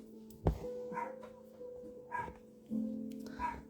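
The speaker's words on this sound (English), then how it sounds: "Chihuahuas are just the best, aren't they? They're like the best guard dogs." Chihuahuas bark at someone passing by, giving faint, scattered yaps spaced a second or so apart against a quiet indoor background.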